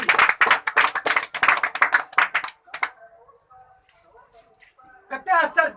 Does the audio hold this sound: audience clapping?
yes